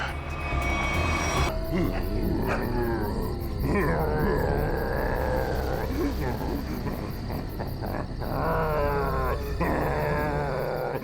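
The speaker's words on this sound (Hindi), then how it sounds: "ये अभी भी घुरा रहा है।" An animal growls with low rumbling snarls during a night-time roadside scene with a punctured vehicle, heard amid people talking and a heavy, train-like background roar.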